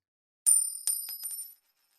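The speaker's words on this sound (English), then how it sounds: "Failing to catch her bracelet as it hits the floor, Anaya hurriedly attempts to stop it from chiming." A dropped bracelet strikes a floor and rings out in a bright metallic chime, followed by a few lighter jingling bounces that fade out over about a second.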